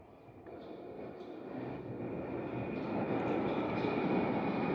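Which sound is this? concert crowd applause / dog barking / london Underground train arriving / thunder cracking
london Underground train arriving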